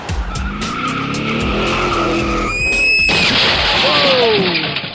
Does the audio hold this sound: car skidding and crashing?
yes